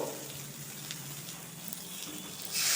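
Onion and tomato frying in a pan for a Bengali lentil dish with pumpkin greens, giving a faint, steady sizzle and crackle that swells a little louder at the end.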